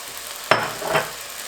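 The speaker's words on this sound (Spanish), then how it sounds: "Vamos a revolver un poco." Vegetables for a cabbage soup, including tomato, squash and mushrooms, get a brief close stir in a pot, two quick scraping swishes over a faint steady background hiss.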